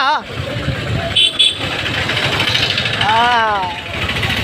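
A vehicle being driven on a road during a lockdown-period errand, its engine running steadily and fairly loud up close, with a person talking over it.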